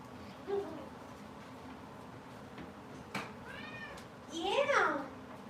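A cat meows several times in a home setting, with a faint short call early, a brief chirp midway and a louder, drawn-out meow near the end, over a steady low room hum.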